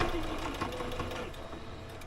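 A fast-running sewing machine stitches over a shoulder seam, its motor whirring steadily and fairly softly for about two seconds.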